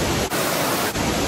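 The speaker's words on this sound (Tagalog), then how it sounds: "Maririnig mo lang yung ingay ng tubig." Water rushes inside the Lamprechtsofen cave as a loud, steady roar of broadband noise, briefly cut twice by short dips.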